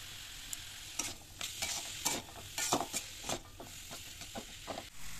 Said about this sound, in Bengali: ওর সাথে দিয়ে দেবো মটরশুঁটি, দিয়ে এটাকে একই সাথে ওই তেলের মধ্যে ফ্রাই করবো।